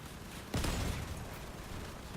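Cannon fire in the Crossout vehicle combat game hits as a sudden heavy boom about half a second in, then rumbles on as a dense, noisy roar of battle.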